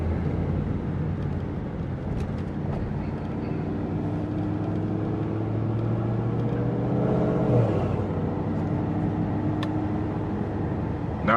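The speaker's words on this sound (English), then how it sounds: "I don't know if you guys can pick up on that turbo noise, but she sounds crazy." Mercedes-AMG E63S with a Stage 2 Plus tune, a steady, close engine rumble with a rising turbo whir over about eleven seconds and no talk.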